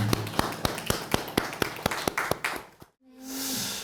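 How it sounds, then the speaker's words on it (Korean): A small church congregation at a prayer service in a seminar room claps together in a brisk, even rhythm of sharp close claps for a few seconds, then stops abruptly before a soft rushing noise rises. "우리 주님께 영광의 박수 올려드리겠습니다"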